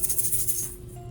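A loud classroom shaker is shaken in a quick steady rhythm, giving bright rattling bursts with no voice over it.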